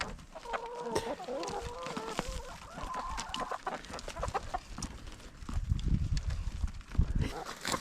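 Hens cluck and chatter close by as they are let out of their coop, with soft rustling, footsteps and scattered background noise.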